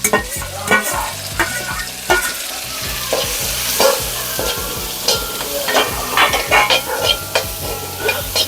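Sliced onions fry in a pan for a Kerala-style crab curry: a loud close sizzle with repeated rhythmic stirring scrapes and occasional utensil knocks, no talking.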